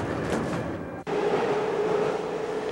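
A Prague subway train runs steadily with a constant rumbling roar and a brief dropout, then a thin tonal whine rises as the ride carries on.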